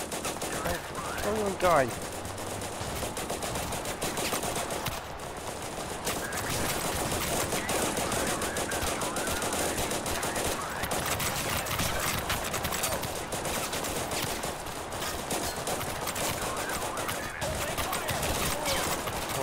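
Gunfire in the video game Total Conflict: Resistance, rapid shots crackling continuously at moderate distance through the whole stretch, with a man briefly exclaiming over it near the start.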